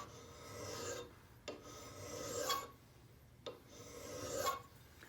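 A card scraper is given a quick touch-up sharpening, producing three long rasping strokes of metal against a file or stone, each a steady scrape lasting about a second and a half, close and moderately quiet, with short pauses between.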